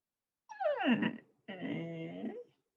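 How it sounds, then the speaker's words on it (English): A pet dog whines indoors in two drawn-out, wavering cries, the first sliding downward in pitch and the second more level, each close and fairly quiet, with no talk. "That's my dog, I'm sorry."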